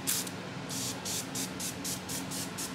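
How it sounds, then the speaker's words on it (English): A facial spray of Evian mist gives a string of short, close hissing bursts in a steady rhythm, eight or so quick spritzes, with no voices. "I figure I'll just spray it."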